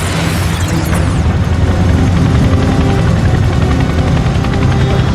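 A Chinook helicopter flies close and loud, its heavy twin-rotor thudding and engine roar filling the sound continuously, with no voices.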